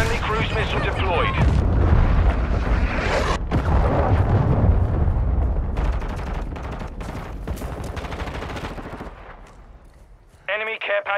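Dense battlefield barrage from a Call of Duty: Modern Warfare II match: booming cruise missile and grenade blasts layered with rapid gunfire, loud and sustained before fading, with game voice callouts cutting in near the end.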